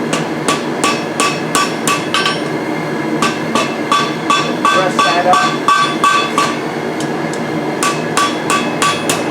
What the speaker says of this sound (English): Don't over hammer it.